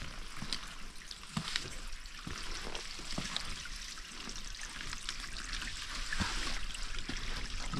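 Water trickles and flows steadily over rocks at the milky, mineral-rich sulphur pools along the Al Dhahir wadi trail in Fujairah. The murmur stays continuous and close, with no talking.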